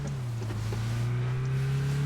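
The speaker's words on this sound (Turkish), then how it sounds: "Arabayla geliyor." A car in PUBG approaches with a steady, loud engine drone that holds a low pitch and rises slightly, continuous throughout with no talk over it.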